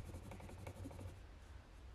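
Soft, scratchy strokes of a Derwent colored pencil rubbing across rough cardboard, quick back-and-forth marks, quiet and close, with no voices.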